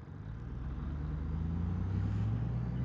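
A Chevrolet Camaro SS convertible goes by on the road, its engine rumble low and steady, growing a little louder as it draws near and passes, heard from a motorcycle with no talking.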